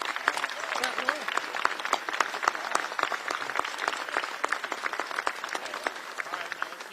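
Crowd at a bill signing event clapping, a lively mix of sharp individual claps with voices talking and calling out over it.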